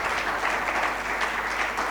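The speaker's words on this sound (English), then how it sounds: "A louder applause, please." Dense, sustained applause from a convention audience at an aviation stakeholders gathering fills the space evenly, a steady wash of many hands clapping without pause.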